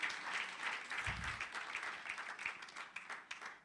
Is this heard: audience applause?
yes